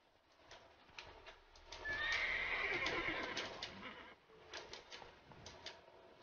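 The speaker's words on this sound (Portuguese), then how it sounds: "Olha o cavalo." Horse from The Witcher III video game, giving one long loud neigh, preceded and followed by soft clip-clopping hooves; close and alone, with no talk.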